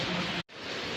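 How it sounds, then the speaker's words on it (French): Heavy tropical rain in Bali pours down as a dense, steady roar of broadband hiss, broken by a brief near-silent gap before the downpour resumes at full strength. "Là, c'est vraiment de la grosse pluie."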